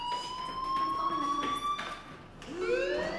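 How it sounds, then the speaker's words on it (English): Fire alarm sounding, a steady high electronic tone with bright overtones holding for about two seconds before a rising siren-like sweep takes over, moderately loud with no talk. "Hey, do you hear that fire alarm?"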